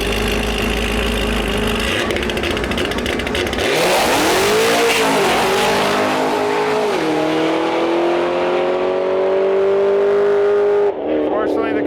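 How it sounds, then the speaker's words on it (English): A Camaro fitted with a Corsa exhaust and a large Magnuson blower launches down a no-prep drag strip at a Western Canada shootout, its supercharged V8 roaring loud and close as it revs, rises through the gears and cuts off near the end. "I love the sound of this car too. It's got Corsa exhaust on it"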